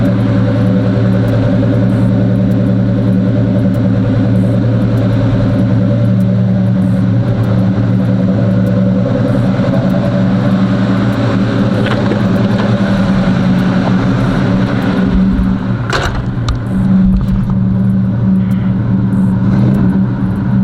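Box Chevy car engine with a deep exhaust growl, rumbling loud and steady close by, with a brief rev surge near the end and no talking.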